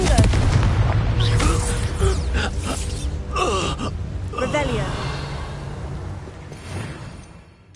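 A Confringo fire spell explodes in Hogwarts Legacy on PS5, with booming blasts and crackling bursts over low game rumble and background effects that fade toward the end.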